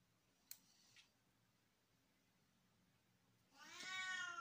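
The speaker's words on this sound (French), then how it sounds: "Il fait beaucoup de bruit ce chat aujourd'hui" Two faint clicks, then quiet, before a cat lets out a loud, drawn-out meow close by at the end.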